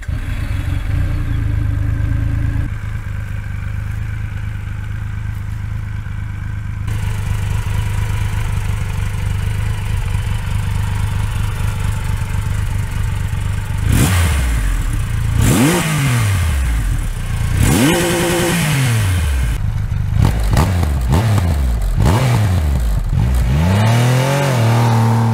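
A Triumph Rocket 3 motorcycle engine idles with a loud, steady rumble, then revs repeatedly in sharp rising and falling bursts toward the end, heard up close with no talking.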